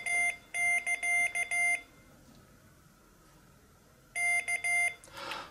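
A Morserino-32 Morse trainer beeps three Vs in a clean, steady tone, each as three short dits and a long dah, split into two groups by a quiet gap, with a faint rustle at the end.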